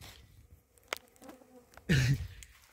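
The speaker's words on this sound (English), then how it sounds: "Those are the bees." Bees buzz faintly in quiet African village surroundings, with a louder insect drone passing close by near the end amid a few small taps.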